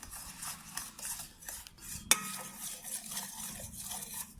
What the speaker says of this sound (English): Stir until all melt